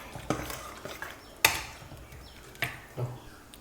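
Kerala sambar stirred in a pot, with scattered scrapes and clinks of a spoon against the pot rim, a few sharper knocks among softer swishing, close and fairly quiet.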